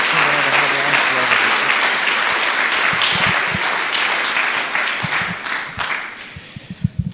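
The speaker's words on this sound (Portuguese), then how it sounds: "Dê mais uma salva de palmas do Senhor." Church congregation applauding loudly and steadily throughout a service, a dense wash of clapping with other voices mixed in and sharper individual claps near the end.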